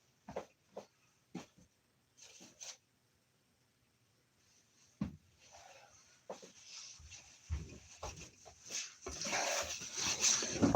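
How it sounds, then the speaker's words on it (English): A pet dog gives a few faint, sparse whimpers and sharp yips at a distance, then louder, busier whining and barking builds toward the end in a quiet indoor room. "That's my dog."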